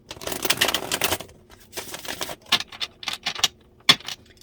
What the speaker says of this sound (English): I like to get a good shuffle though.